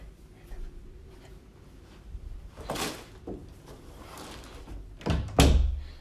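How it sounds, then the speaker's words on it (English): A door swung shut indoors, ending in a solid thunk near the close after softer shuffling and handling sounds, with no talking. "Close this door."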